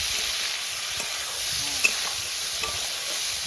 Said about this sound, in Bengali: আমাদের চিংড়ি মাছটাকে একটু লাল লাল করে ভেজে নেবো